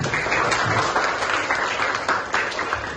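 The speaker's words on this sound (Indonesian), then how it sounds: "Kasih tepuk tangan untuk kita." A classroom of students claps in steady, dense applause, loud and close throughout the few seconds, with a faint voice or two underneath.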